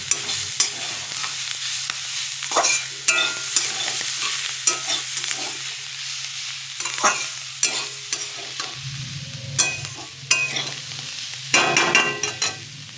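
Radish sizzles steadily in a hot pan while a utensil scrapes and stirs in repeated bursts, close and fairly loud.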